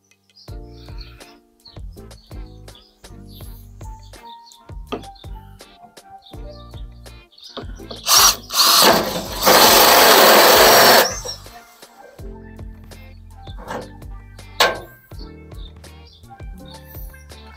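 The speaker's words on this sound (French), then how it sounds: "je vais percer perpendiculairement à l'axe de la cuve" A power drill bores into the side of a Garantia plastic rainwater tank, fitting a Speedy collector: one loud, harsh burst of about three seconds in the middle, surrounded by scattered clicks and light handling noises.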